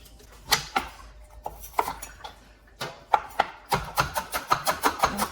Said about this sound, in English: I'll chop that fairly fine because it's a bit stringy